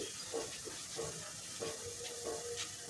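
Mutton for a Kashmiri rogan josh is dropped into hot oil with cardamom and cloves, giving a steady close frying hiss with soft rhythmic stirring sounds throughout.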